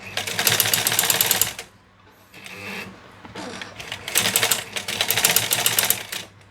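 A black sewing machine stitches jeans thread in loud, fast mechanical bursts, stopping briefly in the middle for a quieter stretch before running hard again, close up and without speech.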